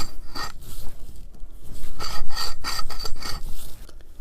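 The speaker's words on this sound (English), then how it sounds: "the fan's rubbing" The fan rubbing inside a Wacker EHB10/100 demolition hammer during restoration, a close, loud rasping scrape that repeats in uneven strokes with faint metallic squeaks.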